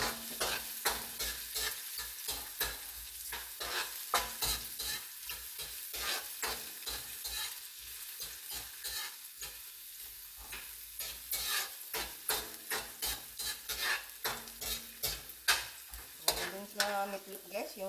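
Garlic and onion sauté in a frying pan for homemade pancit bihon, a steady close sizzle broken by frequent scraping stirs and clatters of utensil on pan, with no voices.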